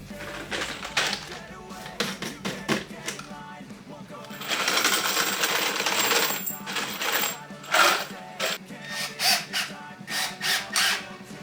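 A power drill cuts pocket holes into wood boards for a cat tree, with short whirring bursts and one longer sustained run, up close with a person talking in between.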